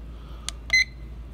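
A black wooden LED digital alarm clock gives two short electronic beeps with its sound setting switched on. The first is a brief chirp and the second a slightly longer, brighter tone, close and clear in a quiet room.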